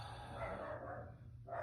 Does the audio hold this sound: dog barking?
yes